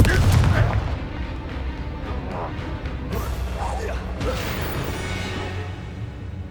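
A Confringo blasting spell explodes in Hogwarts Legacy, a heavy boom followed by crashing debris and a couple of further bursts, loud and close, with a voice calling out the spell over the blasts.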